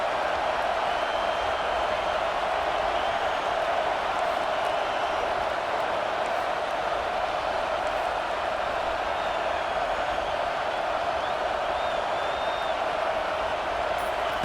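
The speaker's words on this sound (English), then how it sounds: "Decibels rising as the crowd gets behind this defense on 3rd down." Simulated stadium crowd in the NCAA 25 college football video game roars steadily on a third down, a dense, sustained wall of cheering and noise that holds at a constant level throughout.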